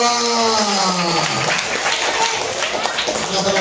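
Children at a Quran memorization school clap together in a group, a busy burst of clapping mixed with young voices and chanting over it, loud and close.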